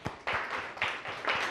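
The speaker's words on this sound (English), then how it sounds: "Clap for her." Schoolchildren in a class three English classroom clap together in a short, loud burst, with a few uneven waves of claps and no talking.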